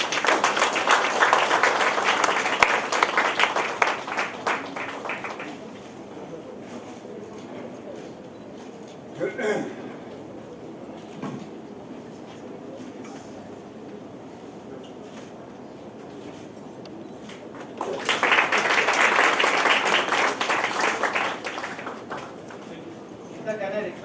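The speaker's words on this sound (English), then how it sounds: "Let's have your claps which are matching Neeta's package" Audience applause breaks out at a book launch of a multilingual poetry collection, a sustained burst of clapping for about five seconds, then quieter murmurs and a few stray sounds before a second strong round of applause near the end.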